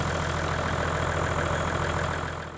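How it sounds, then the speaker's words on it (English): A car engine runs steadily to power a Jamec Pem Auto 1000 automatic tyre inflator's compressor, giving a continuous close rumbling drone that eases slightly at the end, with no talk. "I'm gonna start now the engine, which gets a bit noisy."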